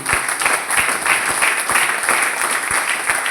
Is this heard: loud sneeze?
no